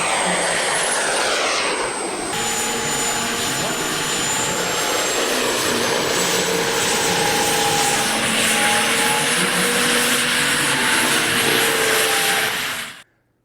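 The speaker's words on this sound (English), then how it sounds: "Let's watch a giant helicopter" Giant RC model helicopter in flight, a loud continuous turbine whine with a steady rotor drone that holds for a long stretch, then cuts off abruptly at the end.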